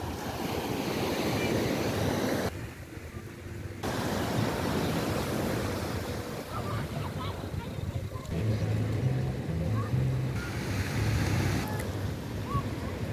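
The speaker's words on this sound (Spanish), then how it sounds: "la ola te trae, te lleva" Ocean waves wash onto the beach at Sayulita, Mexico in a steady, loud broadband roar, with wind buffeting the microphone and a short quieter lull near the start, and faint voices underneath.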